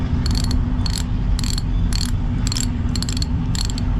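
Ratcheting clicks from the pawls of a Lewmar 58ST electric sailboat winch under rebuild, with short rapid bursts of metallic clicking repeating about every half second over a low mechanical whir, up close.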